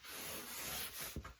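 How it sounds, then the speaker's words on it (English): A marker squeaks and rubs across a board while a small fish is drawn, making a close, soft scratching stroke that ends in a short, sharper tap or stroke. "let me draw a little fish right here."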